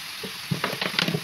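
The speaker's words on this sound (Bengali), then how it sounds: "মরিচ গুঁড়ো দিয়ে দিচ্ছি, হলুদ গুঁড়ো, জিরা গুঁড়ো, সব কিছু দিয়ে এবার আমি কষিয়ে নিব।" Chili, turmeric and cumin powders fry in a pan with a brief, close crackling sizzle and a few quick stirring scrapes.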